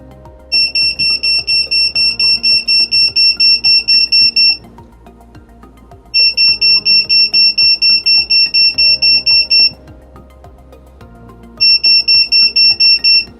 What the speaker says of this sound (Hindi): तो चलिए अब हम अपने रेन बोर्ड को वाटर में डिप करते हैं और इसके बीप साउंड को मॉनिटर करते हैं।